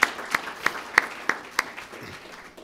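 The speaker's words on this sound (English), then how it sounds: "let's give all of those partners a round of applause" A few people clap at a community mentoring kickoff event in Davis. Six or so distinct, evenly spaced claps stand out over a sparse, quieter patter that fades out.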